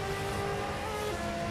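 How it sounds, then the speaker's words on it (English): A race car engine in a racing video game at Daytona drones at high revs, a steady buzzing roar with a slight pitch waver, heard briefly without talk. "Listen to that engine."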